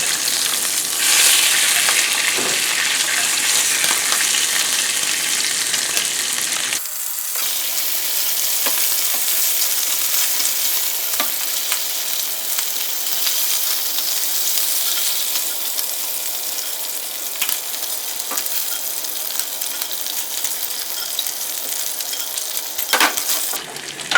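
Bacon sizzles steadily in a hot pan, a continuous bright crackling hiss with occasional pops and a faint scrape partway through, close and loud with no one talking.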